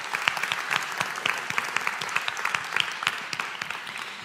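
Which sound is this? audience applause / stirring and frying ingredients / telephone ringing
audience applause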